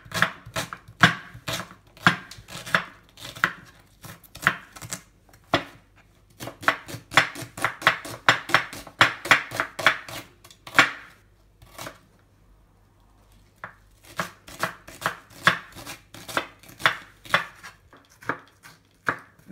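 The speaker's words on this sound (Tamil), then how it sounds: "அதனால் வெங்காயத்தை அரிஞ்சு வச்சுக்கிறோம்." Onions are chopped finely with a knife on a board in a rapid series of sharp, close taps. The quick bursts are broken by short pauses, and no one talks over the cutting.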